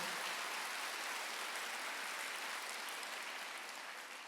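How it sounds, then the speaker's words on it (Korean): Applause from a church congregation during a Sunday worship service, a steady dense clapping wash that holds for several seconds and fades slightly toward the end, with no voices over it. "박수로 하지."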